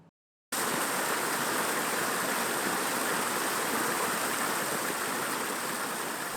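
Heavy waterfall pouring into a natural koi pond, a dense, continuous rushing roar of falling water that starts abruptly after a brief silence and holds steady and loud throughout.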